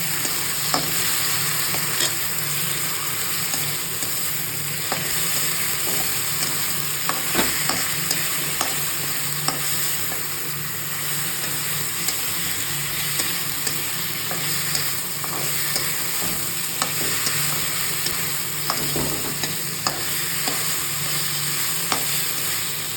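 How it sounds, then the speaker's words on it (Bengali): Potatoes with a ginger, onion and garlic spice paste frying in a pan, a continuous loud sizzle and hiss with occasional clicks and scrapes from stirring, steady throughout with no speech. "মশলাটা এর মধ্যে দিয়ে দিয়েছি। এবার এটা একটু ভাজা ভাজা হোক।"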